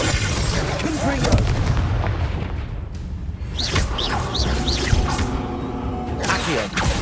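Confringo explosive spell cast in the Hogwarts Legacy video game, a dense crackling burst with whooshing streaks and booming thuds layered over continuous game ambience and effects.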